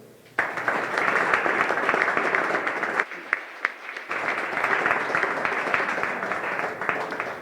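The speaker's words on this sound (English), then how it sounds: "please welcome our candidates this evening with a round of applause" An audience at a downtown business alliance candidate forum applauds to welcome town council candidates, a dense burst of clapping starting abruptly, briefly thinning midway, then resuming strongly until the end.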